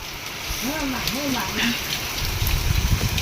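Steady heavy rain pours down outdoors, a dense continuous wash of drops with a voice calling out briefly over it near the start.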